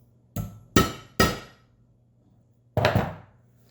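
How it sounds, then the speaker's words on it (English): Four sharp hammer strikes on metal rings: three quick blows close together, a pause, then a final hit, each with a brief ringing clink. "hammer them"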